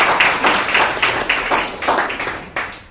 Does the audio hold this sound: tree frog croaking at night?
no